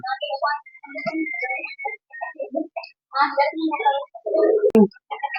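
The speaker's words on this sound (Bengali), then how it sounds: "এটা হচ্ছে কবুতর" Giribaz high-flying pigeons kept in a Dhaka loft give a run of close, loud coos and burbling calls in short bursts, with one sharp click near the end.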